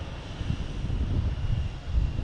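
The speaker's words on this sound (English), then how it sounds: "We have a JetBlue heading to Philly. E190." A JetBlue Embraer E190 airliner at Boston Logan Airport, heard as a steady, low, rumbling engine roar from some distance, with a faint windy hiss and no voices.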